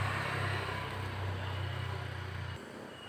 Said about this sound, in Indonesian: audionya terdengar suara kendaraan motor mobil yang lewat